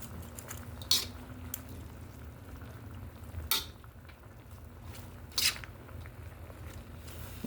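Quiet sizzle of thawed broccoli and cauliflower cooking for a stir fry, with a few sharp utensil scrapes against the pan at intervals over a low, steady background.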